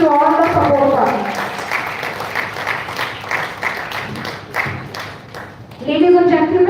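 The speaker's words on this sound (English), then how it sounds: "Let's give a huge round of applause to all the support partners." Audience applause at the opening of an international conference (ICFIFS 2025), a steady wash of clapping lasting several seconds, with an announcer's voice at the start and again at the end.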